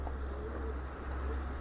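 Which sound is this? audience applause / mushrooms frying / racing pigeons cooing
racing pigeons cooing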